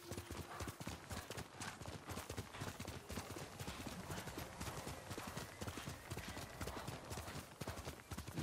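Horse hooves galloping in the video game Ghost of Tsushima, a fast continuous clip-clop beat that stays steady and fairly quiet for the whole stretch.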